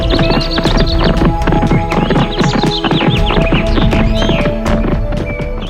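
A horse ridden up a hill clip-clops in a fast, steady rhythm, loud and close, with whinnies layered over the hoofbeats throughout.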